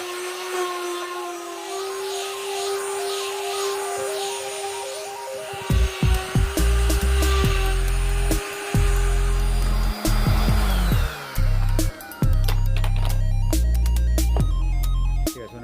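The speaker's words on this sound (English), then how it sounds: "I'm gonna start sanding them." A power sander whines and buzzes steadily on Jeep Grand Cherokee car parts, then starts and stops in repeated bursts as it works over a surface, loud and close.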